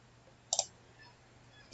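A computer mouse gives two quick clicks close together, then a single click a moment later, sharp and close in an otherwise quiet room with a faint electrical hum.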